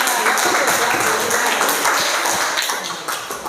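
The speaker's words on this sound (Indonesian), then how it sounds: "beri tepuk tangan untuk kelompok kita" A class of students applauding a student group, a dense burst of many hands clapping that stays fairly loud, then thins and fades toward the end.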